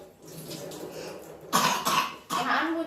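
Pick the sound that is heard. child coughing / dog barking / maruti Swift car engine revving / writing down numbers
child coughing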